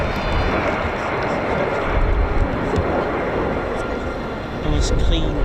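Patrulla Águila display jets making an opposing pass at the Royal International Air Tattoo 2023, RAF Fairford: a loud, steady roaring jet rush filling the air, with a commentator talking over it.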